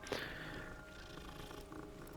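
A cat being stroked in the Hogwarts Legacy video game purrs steadily and softly for a couple of seconds over a low game ambience.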